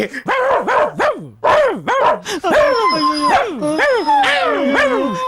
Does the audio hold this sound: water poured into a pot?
no